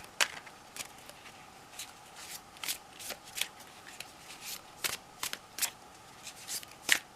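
A tarot card deck being shuffled repeatedly, crisp riffling bursts coming in irregular clusters, close and fairly quiet, with no voices.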